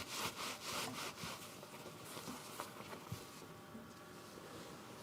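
Brush hairs rubbed firmly inside a wrapping of deerskin to strip out grease, a steady close-up scrubbing rasp with rhythmic back-and-forth strokes, quiet and continuous with no voices.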